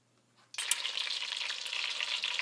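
Garlic and fresh thyme dropped into heating oil, with a near-silent start, then a sudden loud burst of sizzling that holds steady and close for the remaining two seconds.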